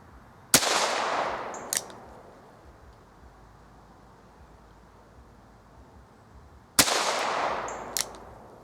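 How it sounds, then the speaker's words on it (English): Two sharp, loud .22 LR Federal Punch rifle shots fired from a sandbag rest outdoors, each a crisp crack followed by a long fading echo with a faint metallic tick, set against steady wind-like background hiss. "Okay, that's 5 shots, the first 5 shots."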